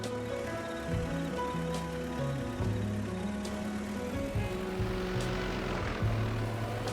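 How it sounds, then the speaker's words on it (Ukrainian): Tractor engine pulling a plough in Farming Simulator 22, a steady, loud, low mechanical drone that holds throughout with shifting gear tones and no talk. "Тому запускаємо сорокана, беремо плуга та починаємо."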